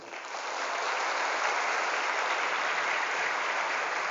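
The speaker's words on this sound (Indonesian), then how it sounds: "Kami rindu tepuk tangan Anda semuanya" Thousands of santri students at an Islamic boarding school seminar in Tasikmalaya break into broad, dense applause that builds quickly and holds as a steady roar with no talking.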